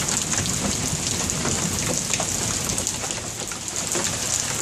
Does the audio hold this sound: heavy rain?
yes